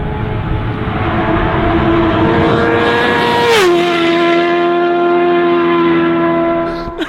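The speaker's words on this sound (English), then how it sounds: "It sounds like an F1 car in the distance." A fast motorcycle engine roars loud and steady in a sustained high-revving wail, its pitch dropping sharply midway as it passes by, then holding a lower drone to the end, with no talk.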